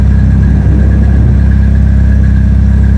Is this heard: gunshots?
no